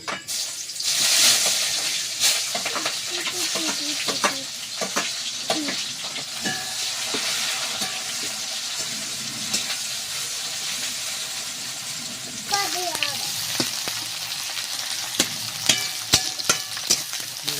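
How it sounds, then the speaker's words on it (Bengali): Onions sizzle steadily in a hot pan after potatoes were fried, a continuous frying hiss with occasional scraping stirs and a brief surge partway through. "পেঁয়াজটা হালকা ভেজে নিয়েছি"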